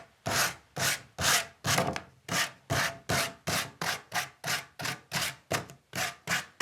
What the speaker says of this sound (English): I'm going to go over lightly and sand a little bit,